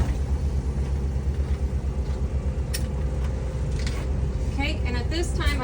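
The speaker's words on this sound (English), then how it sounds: "Start my engine." A bus engine idles inside the vehicle during a brake test, a steady close low rumble with faint rattles and a few brief higher squeaks toward the end.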